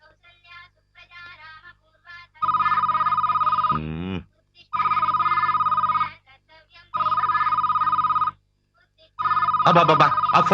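A telephone rings in repeated long electronic bursts separated by short pauses, loud and close, with people talking between the rings.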